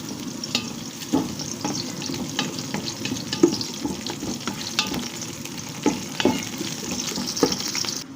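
Whole spices and bay leaves fry in hot oil in a pan for egg biryani, giving a steady crackling sizzle broken by repeated sharp stirring scrapes and clinks close by.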